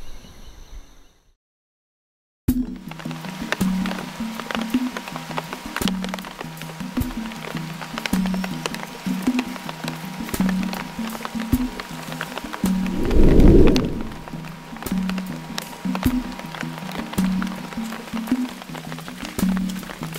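Steady rain falls over open countryside, a continuous hiss that begins abruptly after a brief silence, with one deep rumble of thunder rising and fading about two-thirds of the way through.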